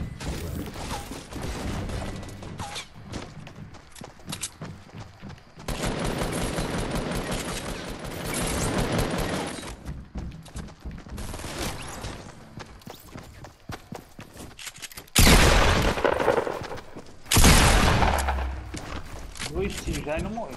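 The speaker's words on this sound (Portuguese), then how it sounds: "Dois tiros já e não morreu." Gunfire in a multiplayer video game shooter, with bursts of rapid shots and loud separate blasts around the middle and end, under excited players' voice chat.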